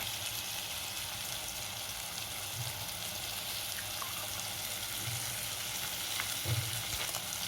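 Beaten egg fries in a pan for egg fried rice, producing a steady, gentle sizzle throughout with a few faint clunks, quiet and without talk.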